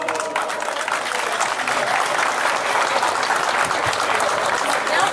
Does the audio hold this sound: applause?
yes